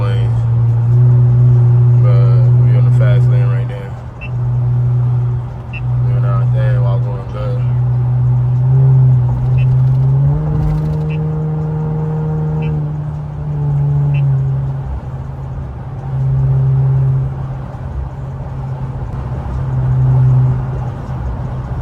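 A loud twin-turbo Infiniti Q50 with a lowered downpipe drones and surges repeatedly from inside the cabin, engine pitch rising and easing over and over as it accelerates on an upstate New York road, with talk over it.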